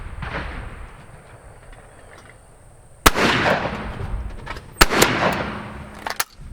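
Shotguns fire at clay targets on an outdoor sporting course: after a quiet stretch, two sharp, loud reports about two seconds apart, each trailing off in an echo, then a fainter pop near the end.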